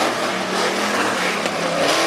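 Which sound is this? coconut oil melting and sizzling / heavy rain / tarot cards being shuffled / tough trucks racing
tough trucks racing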